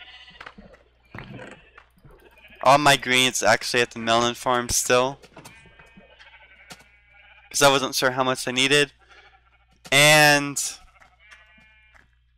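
Sheep bleat from pens in a video game, a few wavering cries rising over ongoing talk with quiet gaps between them.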